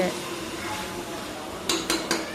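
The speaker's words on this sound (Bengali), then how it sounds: "এখন মাংসটা কষাই নিচ্ছি" A spoon works beef with potatoes around a pot over a low flame, a soft sizzle running underneath, then three sharp metallic clinks against the pot rim close together near the end.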